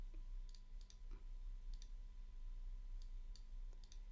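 Several quiet, sharp mouse clicks come in small irregular bursts over a steady low electrical hum, spaced through the stretch with brief pauses between, as a next button is clicked repeatedly in a React JoyRide walkthrough.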